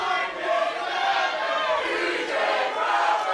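A live crowd at an independent pro wrestling show cheering and shouting together in a steady, loud roar that swells and dips without letup, with voices blending into a dense wall of noise.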